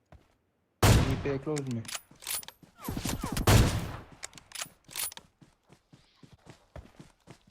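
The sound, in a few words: AUG assault rifle gunfire in PUBG Mobile video game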